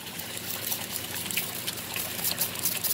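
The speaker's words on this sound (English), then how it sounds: "This is just soapy water." Soapy water trickling and splashing over a Phalaenopsis orchid with rotten roots and a mealybug infestation, a steady close-up stream of liquid with light dribbling texture and no talk.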